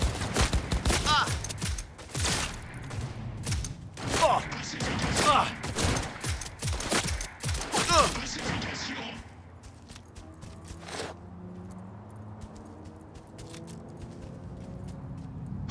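Rapid gunfire bursts in the video game Cyberpunk 2077, with sharp repeated shots and thuds crowding the first half, then thinning to a lone shot over a low rumbling backdrop; voices speak over the action.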